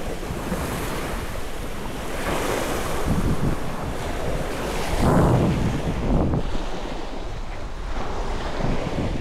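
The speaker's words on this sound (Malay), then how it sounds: "Angin lain macam" Strong wind buffets the microphone at a seaside bay at Teluk Kerang, Pontian, Johor, roaring steadily with surging gusts over the wash of waves, with no voices.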